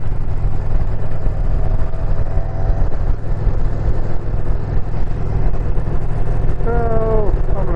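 A motorcycle riding on a road on a clear day, a steady loud engine drone with wind rumble throughout and a short rev rise near the end, someone speaking over it.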